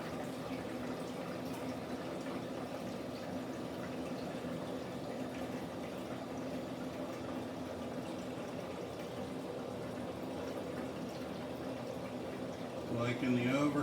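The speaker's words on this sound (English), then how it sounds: "here we go with the test run, adding water." Water pours steadily into a newly built aquarium sump during a wet test, a constant gushing fill with a faint hum beneath it, picking up slightly near the end.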